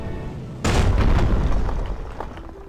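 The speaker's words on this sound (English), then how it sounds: "An explosion! Oh no!" Sudden loud boom of an explosion in the video game Tokyo Afterschool Summoners, bursting in after a quiet start and rumbling down with scattered crackling debris over the next two seconds, no talk.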